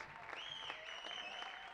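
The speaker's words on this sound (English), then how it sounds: "Ashley Pankey comes out of the game to applause from the fans" Fans at a Kansas versus South Dakota State college soccer match applaud a substituted player, a distant, even crowd clapping that runs throughout beneath a commentator's voice.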